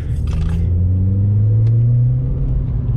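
A VW Polo GTI 9N3 turbo hot hatch accelerates hard, its engine note a steady, loud, rising drone heard from inside the cabin, with no talking.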